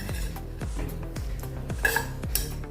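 A utensil scrapes and clinks against a kadhai as roasted coconut is scooped out, giving several quiet, regular metallic scrapes and taps close by, with no talk.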